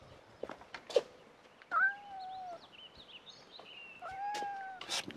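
A house cat meows several times in a home, with drawn-out, rising-and-falling cries spaced over a few seconds among quiet household noise and faint chirps, moderately close and otherwise alone.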